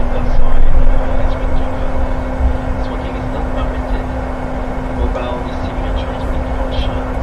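An Embraer E175 in Microsoft Flight Simulator rolls out after touchdown at Vancouver International Airport with thrust reversers deployed, a steady engine roar and constant drone that swells early then settles, loud and continuous.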